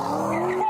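A Lamborghini speeds away through a Miami suburb, its tires squealing in a short, rising screech over engine noise, fairly close and loud.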